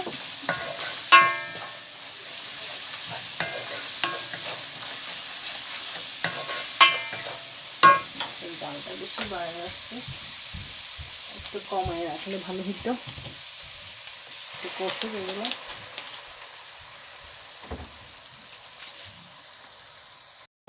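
Fish and flat beans sauté in a hot pan with a continuous spattering sizzle, punctuated by scraping stirs and clinks of a utensil against the pan over about twenty seconds, with no talking.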